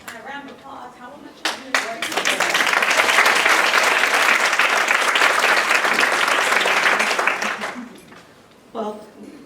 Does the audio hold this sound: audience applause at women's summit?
yes